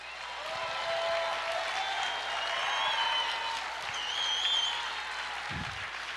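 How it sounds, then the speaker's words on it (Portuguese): A church congregation claps together in a sustained, moderately distant wave of applause that swells and eases over several seconds, with a few faint voices underneath. "Aleluia, aplauda o Senhor."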